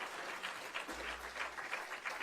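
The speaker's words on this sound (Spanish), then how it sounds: "Denle un aplauso fuerte a Cristo" A church congregation gives a short round of applause during a sermon, a faint, brief burst of clapping.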